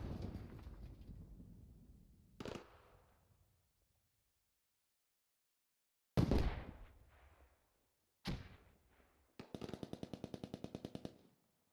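Gunfire from firefights in the military shooter Squad: a fading rumble, then isolated sharp cracks echoing out, and a rapid rhythmic machine-gun burst near the end, heard alone without talk.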